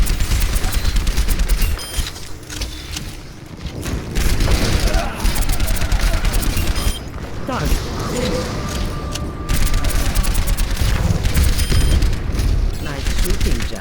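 Dense gunfire and booming impacts in the team shooter game Overwatch, with bursts of rapid shots and explosions running continuously at high volume, a voice talking over the battle.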